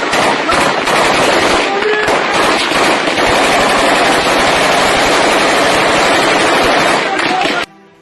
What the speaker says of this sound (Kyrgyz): Ок атышууну токтотуу туурасындагы аталган келишимди бузган тажик тарап кайрадан ок ата баштаган.